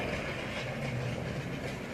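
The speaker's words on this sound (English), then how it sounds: "Then I could have two trains running" Steady continuous rumble and rolling clatter of a long 009 narrow gauge model train running on its track, close by and fairly loud, with no voices.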